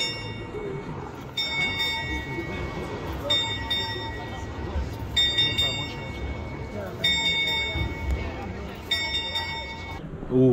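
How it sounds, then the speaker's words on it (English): Repeated bell-like chimes ring at regular intervals from the Prague astronomical clock over a crowd, with a person talking close by throughout. "I'm pretty sure that big clock is going to chime"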